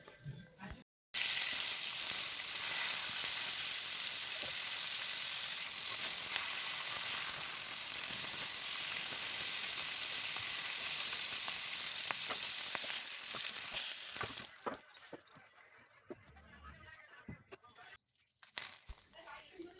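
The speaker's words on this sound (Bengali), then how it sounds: "আর এবার আমি ওই তেলের মধ্যে মাছগুলো ভেজে নেব।" Fish heads fry in hot oil with a loud, continuous crackling sizzle for most of the clip, then the sound thins into quieter pops and clatter, with a voice speaking over the cooking.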